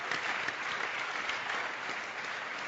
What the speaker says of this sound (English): let's give all of them a round of applause for being with us today.